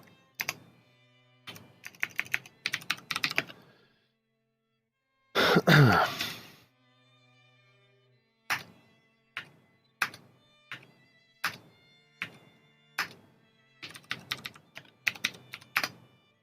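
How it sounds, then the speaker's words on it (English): Keystrokes on a computer keyboard come in short bursts, then a single louder thump, then steady, evenly spaced taps during a tabletop game session, close and clear with no talking. "You have to give me a second to type it out."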